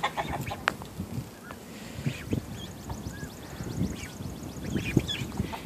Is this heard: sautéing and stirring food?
no